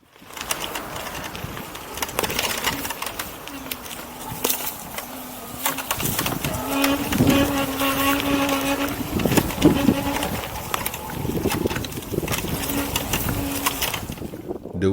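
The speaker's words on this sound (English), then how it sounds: "The wheel makes 2 types of sounds." A King Song S20 electric unicycle rolls over rough terrain, giving a busy stream of rattles, clunks and a recurring mid-pitched motor hum, with knocks and scrapes scattered throughout and steady loudness for fifteen seconds.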